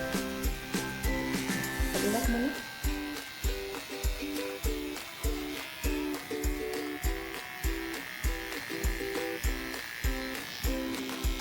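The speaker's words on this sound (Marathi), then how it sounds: "कट करून घेणार आहे ट्रिमरच्या सहाय्याने" An electric hair trimmer cuts hair during a home haircut, its motor buzzing close in a steady, regularly pulsing rhythm that keeps going throughout with no talking.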